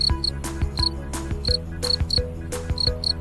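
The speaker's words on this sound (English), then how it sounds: "Cricket." A cricket chirps in about ten quick trilling bursts spread evenly through the clip, sitting on top of bright background music with plucked, piano-like notes.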